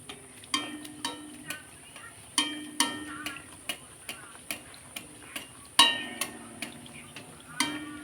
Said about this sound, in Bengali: একই রকমভাবে এটাও আমি ভেজে নেবো